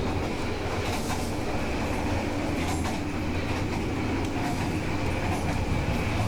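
Steady loud rumble of a passenger train running on rails, heard from inside an economy premium carriage, with faint rhythmic clatter and no talking.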